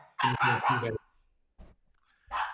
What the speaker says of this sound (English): as my dog barks in the background